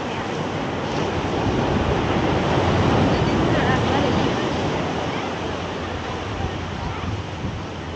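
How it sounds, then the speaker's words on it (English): Ocean surf at Laguna Beach roars in a steady, dense wash of crashing water, loud and close, with some wind buffeting across the whole stretch. "Huge waves."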